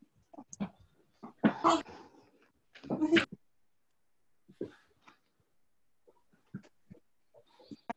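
A dog whimpers and breathes in short, irregular bursts after a person lands on it during an Ashtanga yoga shoulder stand, with a couple of louder rustling thumps early on and quieter whines scattered through the rest.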